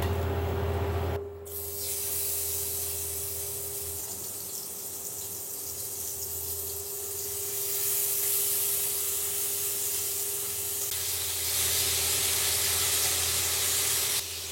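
Chicken pieces laid skin side down in a hot grill pan give a loud, steady, close sizzle and hiss that carries on without a break.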